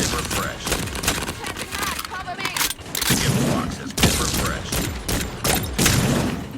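Rapid gunfire in the Carnival Shoot Out video game as targets are shot, dense crackling bursts running throughout under someone talking casually.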